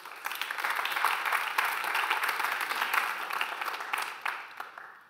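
An audience applauds steadily at a public event on racism, antisemitism and anti-LGBT hatred in a hall, dense clapping throughout that tapers slightly near the end.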